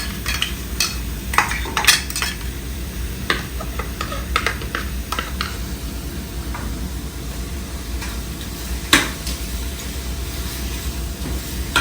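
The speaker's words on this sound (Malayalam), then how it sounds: "ഒരു സ്പൂൺ തിരഞ്ഞുകൊണ്ട് ഈ സമയം ഞാൻ ഈ chilli paste and onion paste ഇടും." Chili paste and onion paste going into a pan for an oyster dish, followed by steady stirring: repeated metal spoon scrapes and clinks against the pan over a low sizzle, with no one talking.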